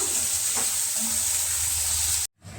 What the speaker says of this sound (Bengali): মাছ ভাজার তেলের মধ্যেই দিয়ে দিলাম কুচনো পেঁয়াজ পেঁয়াজটা একটু ভেজে নেব